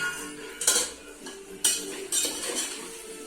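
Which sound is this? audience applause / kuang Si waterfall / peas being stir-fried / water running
peas being stir-fried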